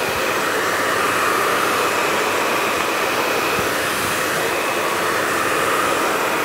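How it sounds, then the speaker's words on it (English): A hair dryer blow-dries mid-length hair in a salon, a loud, steady whirring blast with a constant high whine that runs throughout without pause or speech. "Put the dryer down, section with a comb, pick the dryer up."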